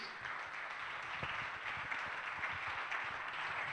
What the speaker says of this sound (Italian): io vorrei fare subito un applauso a questa bellissima giuria che vedete qui